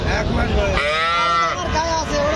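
A one-month-old male calf at a border-area cattle market gives one loud, close, drawn-out moo lasting about a second, with faint crowd murmur around it.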